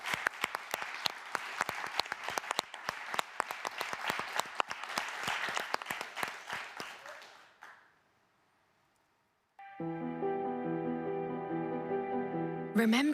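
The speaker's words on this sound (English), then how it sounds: "I would love to just end with a great applause for everyone who's been with us during this call and everyone virtually." Loud, dense applause from an audience closing an all-employee global webcast, lasting about seven seconds before fading to near silence, after which sustained tonal music begins.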